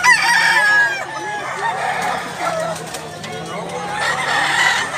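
Gamecocks at a Cebu poultry sale crowing and clucking, several overlapping loud calls close by, with someone talking underneath.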